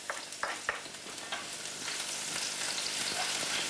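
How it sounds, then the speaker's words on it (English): Onions drop into hot oil already used for frying meatballs, with a few quick knocks and stirring scrapes at first, then a steady, close crackling sizzle building and holding, with no one talking. "we're going to fry the onions first"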